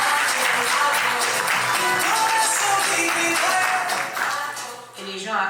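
Guests at a civil wedding ceremony in Libreville applaud the second witness, a sustained loud patter of many hands that dips briefly near the end before picking back up.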